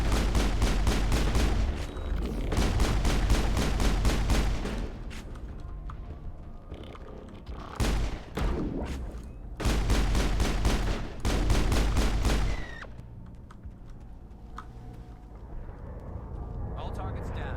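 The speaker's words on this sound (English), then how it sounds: "Whoa, big explosion." Gunfire and explosions in the Mass Effect video game: rapid bursts of automatic weapon fire in several long volleys, with heavy booming blasts between them and players talking over the action.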